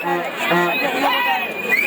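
A crowd at a jallikattu bull-taming event cheers and shouts in a loud, continuous roar, with excited voices overlapping close by.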